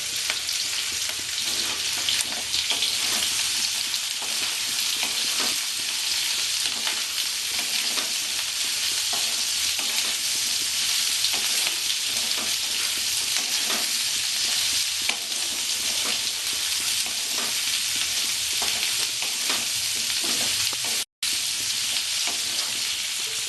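Bitter gourd frying in ghee for a Bengali-style mixed vegetable dish gives a loud, steady, close sizzle with light stirring throughout, broken once by a short gap.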